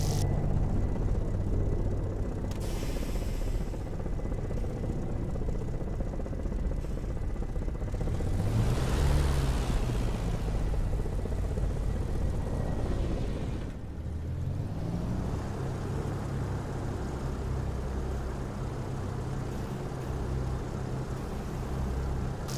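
An aircraft taxiing in the DCS flight simulator game, its engine a steady, continuous drone with a rising and falling tonal whine in the middle as power shifts, heard alone.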